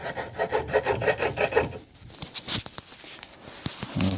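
Drawknife shaving wood on a western plow under rebuild, a quick run of rhythmic rasping strokes, then scattered scrapes and light knocks, close and fairly quiet.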